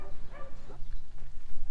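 A dog barks and yips in a van, a couple of short bursts close up over a steady low engine-like hum.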